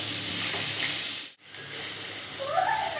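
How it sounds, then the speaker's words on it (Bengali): Potatoes, yardlong beans and papaya frying together in oil, a continuous close sizzle and hiss with a brief dip near the middle, no talk. "আলু, বরবটি আর পেঁপে একসাথেই ভেজে নেব।"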